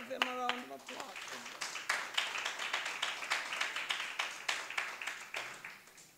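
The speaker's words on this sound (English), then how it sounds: "Let us give them a round of applause" Audience applause at an annual poetry event, moderate clapping from a modest crowd with distinct individual claps, following a brief spoken voice at the start and continuing evenly to the end.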